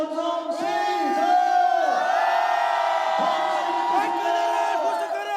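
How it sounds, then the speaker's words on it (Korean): Large crowd at a Daegu street rally shouting and cheering together, a loud sustained roar of many voices with rising and falling whoops throughout. "큰 함성 들으면서 마치겠습니다. 함성 시작!"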